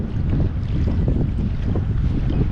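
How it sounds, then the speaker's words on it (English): Strong wind gusts over open water beside a boat, buffeting the microphone with a loud, steady, rumbling roar that lasts throughout, with no voices. "This wind is sketchy."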